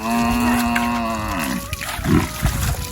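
A water buffalo on a riverbank lets out one long, loud, close moo that slides downward and fades, followed by scattered outdoor rustles and a faint voice.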